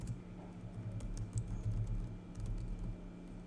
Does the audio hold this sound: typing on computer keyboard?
yes